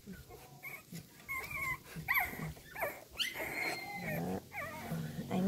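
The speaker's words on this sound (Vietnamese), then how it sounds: "Con chó này là chó bốn mắt này" A four-eyed dog whimpers and whines close by in a string of short, high, wavering cries with brief pauses, each rising and falling in pitch, with no talking over it.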